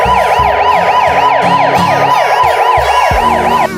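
A wailing ambulance siren sweeps up and down in steady repeated cycles, loud and close, over a rumbling vehicle engine, with no voices present.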